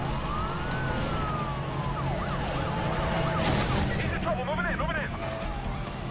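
Police car siren in a Need for Speed racing game, a wailing, sweeping tone over a constant engine roar while a player's Nissan Fairlady is chased, with someone talking over the game sounds.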